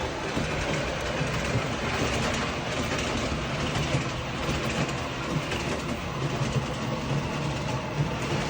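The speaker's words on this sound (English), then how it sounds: "let's run the train up on the switch and see what" A Menards model train runs up onto a new track switch, producing a steady, continuous rolling rumble with faint rail clatter at close range and no voices.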